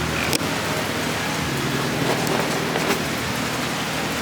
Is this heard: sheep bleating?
no